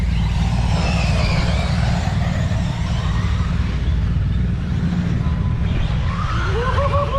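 Tekno EB48 2.0 electric 1/8-scale buggies race at a BEGO Racing 2021 round, a steady dense roar of motors with thin whining sweeps near the end, under a background babble of voices.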